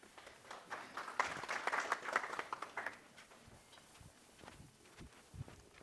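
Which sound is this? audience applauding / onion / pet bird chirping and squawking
audience applauding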